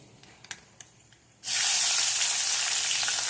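Asafoetida and a green chili dropped into hot oil for tempering, a sudden loud sizzle bursting in after a quiet start and holding steady, close and alone.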